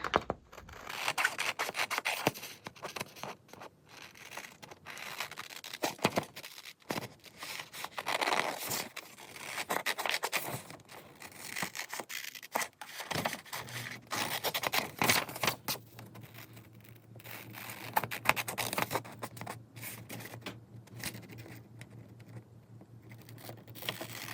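Scissors cut a sheet of printed copy paper, producing close, uneven snips and rustling scrapes in irregular bursts with short pauses between cuts.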